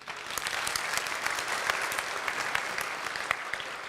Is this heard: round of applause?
yes